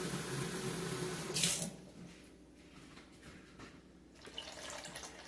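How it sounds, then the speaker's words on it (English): Tap water running and being poured into a bowl for pita bread dough in a home kitchen, a steady close splashing stream that swells briefly then settles into a softer trickle. "I'm going to add water now."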